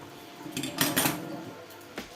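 A metal wok clatters and scrapes a few times in quick succession as it is tipped over to drain oil, with a final lighter knock, no voices.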